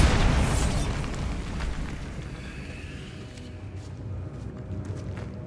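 A Bombarda spell explosion in the video game Hogwarts Legacy: a loud, deep blast that rumbles and slowly decays over several seconds, with faint footsteps trailing after, no talk.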